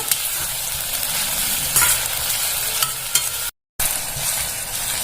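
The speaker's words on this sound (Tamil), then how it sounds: "இப்போ இஞ்சி பூண்டு பேஸ்ட் போட்டுடலாம். நல்லா கிளறி விட்டுக்கோங்க." Ginger garlic paste fries with golden-brown onions in a pan for tomato rice while being stirred. A continuous crackling sizzle runs under scraping stirs, with a brief dropout near the end.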